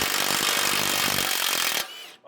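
A wrench or powered driver on an 18mm bolt in the front strut of a 2014–2020 Ford F-150 makes a loud, harsh buzzing rattle that cuts off abruptly after about two seconds, with a faint trailing clink.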